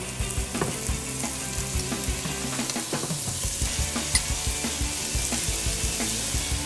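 Burgers sizzle and fry in a hot pan, a dense continuous crackle with scattered pops and some stirring or scraping, fairly quiet and steady throughout with no talking.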